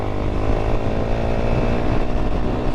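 A GPX Demon 165R motorcycle riding along a road toward Rangamati from Kaptai, its engine droning loud, close and steady throughout with a buzzing, revving tone.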